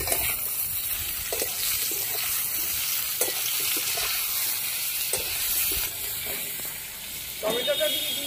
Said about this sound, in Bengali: ভালো করে সবগুলো ভাজা ভাজা করে নিচ্ছি